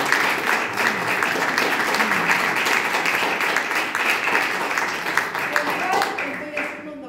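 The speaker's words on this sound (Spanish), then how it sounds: "Un aplauso para este." A seated audience at a book launch for a playwriting text breaks into sustained, dense applause lasting several seconds, steady and fairly loud before tapering off at the end.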